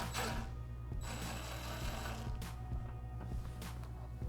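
A socket wrench loosens a 10mm hex nut holding the fuel tank to the frame of a 2016 Honda CBR500R motorcycle, giving quiet close-up ratcheting clicks in short bursts over a faint background hum.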